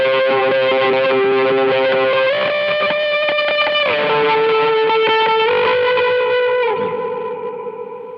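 Electric guitar through a Death By Audio Reverberation Machine pedal, sustained distorted chords shifting in a few steps, drenched in springy, almost delay-like reverb that rings loudly and then fades at the end.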